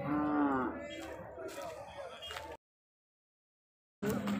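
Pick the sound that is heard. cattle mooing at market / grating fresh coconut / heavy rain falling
cattle mooing at market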